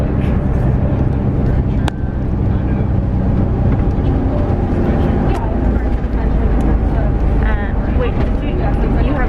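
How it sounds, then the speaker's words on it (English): A bus rumbles steadily up a mountain road toward Moraine Lake near Banff, the loud engine and road drone continuous, with a few rattles and bumps and voices talking over it. "We are on a bus heading to Moraine Lake."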